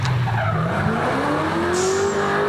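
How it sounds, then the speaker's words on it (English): Black ute doing a handbrake turn at a hillclimb event, loud sustained tyre skid and squeal with engine revving, rising whine as the vehicle slides, heard up close on its own. "Oh, there's a nice little handbrake and smoke up."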